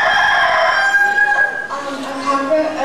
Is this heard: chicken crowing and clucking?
yes